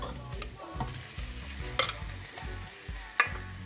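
Pork sizzles in a pot with sautéed seasonings for a Jamaican brown stew, a soft frying hiss with a few scraping stirs and small knocks, fairly quiet and without talk.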